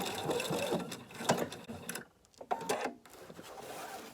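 A sewing machine stitches a fabric placemat in quick mechanical bursts of rapid clattering, pausing midway, then a few short stitches, fairly quiet and close.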